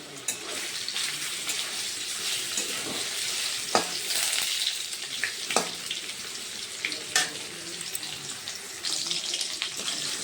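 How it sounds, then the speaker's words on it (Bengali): Cornflour-coated paneer pieces fry in hot oil with a steady dense sizzle and occasional sharp crackles and pops throughout. "একটু কর্নফ্লাওয়ার দিয়ে মাখা পনিরগুলো একটু ভেজে নিচ্ছি"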